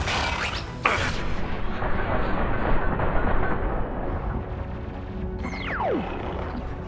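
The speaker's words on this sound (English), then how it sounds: "Taking heavy fire." Heavy gunfire in a Mass Effect 2 battle: dense, continuous bursts and booms with a short whooshing, falling streak near the end, loud and close, with no talk.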